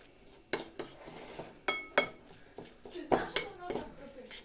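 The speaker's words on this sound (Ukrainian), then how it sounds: "Перетираємо часник зі солею." Garlic pressed and ground with a little salt in a bowl, giving close, irregular clinks and scrapes of a utensil against the dish, with short bursts spread over a few seconds.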